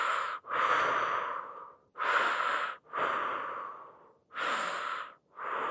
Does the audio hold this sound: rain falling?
no